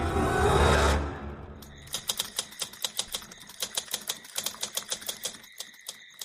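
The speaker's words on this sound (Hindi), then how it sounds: "टाइपराइटर की बटन दबने की आवाज सुनाई दे रही थी।" Typewriter keys clack in a quick, uneven rhythm, each strike sharp and close, following a brief burst of rushing noise at the start.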